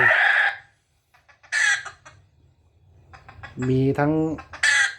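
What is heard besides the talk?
hen clucking played from a remote-controlled speaker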